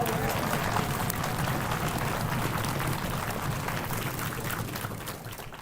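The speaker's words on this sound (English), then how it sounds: "give Nick a round of applause" Audience applause at a high school orchestra winter concert, a dense, steady wash of clapping from a crowd that slowly fades toward the end.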